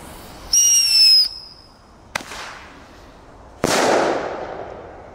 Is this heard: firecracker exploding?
yes